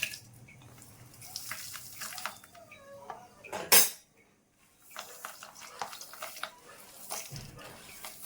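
Dry fruits are stirred in ghee in a pan, with irregular scraping and metallic clinks of a spoon against the pan, one loud clatter midway, then quieter stirring.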